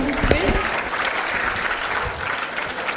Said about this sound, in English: Give them a round applause.